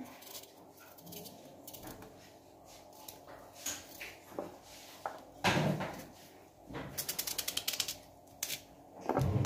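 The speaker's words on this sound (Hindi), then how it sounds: "तो इस तरीके से हम इसको बिल्कुल पतला पतला काट लेते हैं।" A knife slices carrots into thin pieces on a board, with scattered cuts that build into a quick, rapid run of tapping chops near the end.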